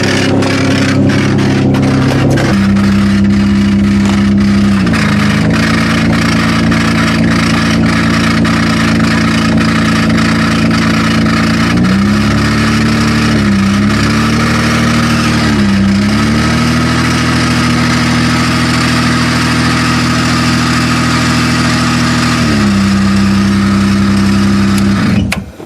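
A long-parked Honda Accord car engine runs loud and close, holding a steady idle broken by several revs that rise and fall, with no talking.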